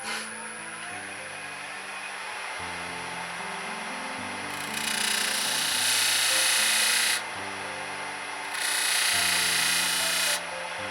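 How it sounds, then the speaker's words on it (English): An oval skew chisel cuts a detail into a wooden brooch spinning on a lathe: a steady motor whine runs throughout while two loud, airy scraping cuts come and go, each lasting a couple of seconds. "Using the oval skew, I go ahead and make a detail in here."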